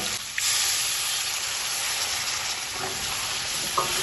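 Fried shrimp sizzle in masala after a splash of water goes in, a loud, continuous hissing fry with a few faint stirring clinks near the end.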